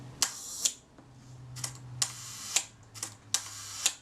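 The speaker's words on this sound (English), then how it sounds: "this is where we cock the shutter" Shutter of a Kodak Retina I type 119 folding camera being cocked and fired, a run of sharp mechanical clicks spaced through the clip, close and crisp, with no talk.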